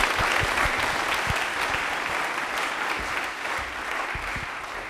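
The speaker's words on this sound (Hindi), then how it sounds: "तालियां जोरदार हो जाएंगे इनके लिए" A studio audience on a televised general-knowledge quiz show gives a burst of vigorous applause, dense and even clapping sustained across the whole stretch, close and fairly loud.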